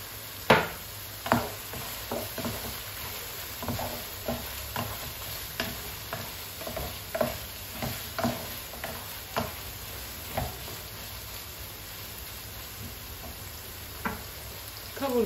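Spiced chicken being sautéed in a single pot, with a spoon scraping and stirring in repeated clacks and scrapes over a low, steady sizzle, close and moderately loud.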